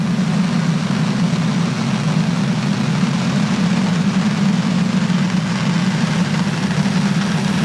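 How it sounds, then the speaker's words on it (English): Falcon 9 rocket carrying the Koreasat 6A satellite roaring at liftoff, a steady, loud, low rumble with broad hiss that holds unbroken throughout, no voices. "Ignition and launch. Go Falcon, go Koreasat."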